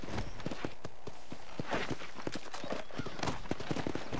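Horse hooves clip-clop in Red Dead Redemption, a quick run of close, regular hoofbeats over steady background noise.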